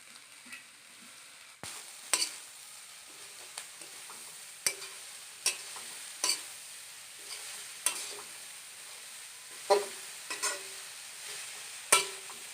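Boiled taro leaves are stirred in a pan over a faint, low sizzle, with a spatula striking and scraping the pan at a fairly regular pace, quiet and close, with no voices.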